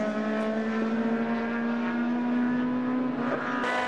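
Touring race cars scream past on a circuit, a loud sustained engine whine climbing in pitch as one car accelerates, with a faint rise of another engine near the end.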